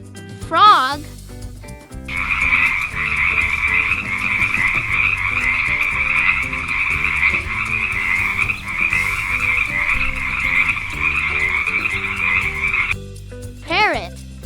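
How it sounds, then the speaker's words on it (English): A frog croaks in a long, steady rippling trill that runs for about ten seconds. Shorter calls come before and after it, and the croaking sounds loud and close. "Frog."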